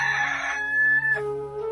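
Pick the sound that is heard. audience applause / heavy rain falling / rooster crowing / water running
rooster crowing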